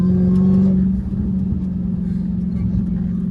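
Dodge Hellcat Redeye with an 800 hp engine, heard from inside the car as a loud, steady low drone with a brief rise early on, under faint background voices.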